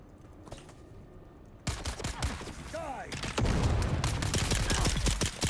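Grenade blasts and gunfire in the video game Dune: Awakening, starting after a quieter stretch as loud, rapid, sharp bursts that keep going to the end, with louder crackling detonations in the second half.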